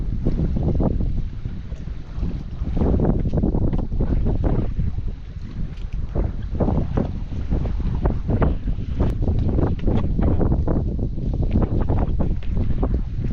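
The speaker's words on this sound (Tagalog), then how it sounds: "Lakas ng hangin" Strong wind gusts after a typhoon buffet the microphone in heavy, rumbling bursts that rise and fall continuously, with no voices.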